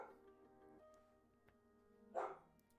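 A dog barks once, sharp and fairly close, in a quiet indoor room after a stretch of low background sound.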